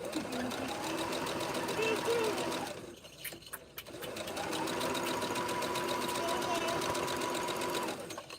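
A sewing machine whirs at a steady rhythm while sewing a folded-corners quilt block, stopping briefly in the middle before running again, with voices faintly audible in the room.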